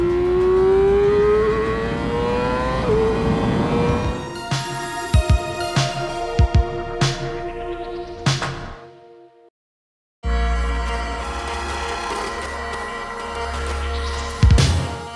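A high-revving Yamaha R6 sport motorcycle engine screams close by on a race track, winding up through gear changes with rising pitch, drops out briefly, then roars back at full throttle.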